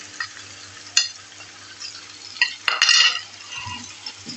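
Masala and onion sizzle softly in a pot for beef nihari while a metal spoon stirs and scrapes, with a few clinks and a louder clatter midway.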